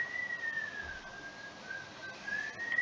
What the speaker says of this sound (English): Somebody's whistling while working.